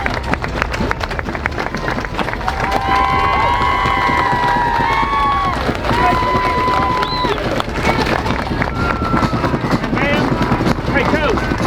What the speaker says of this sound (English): Clap him out! Clap him out!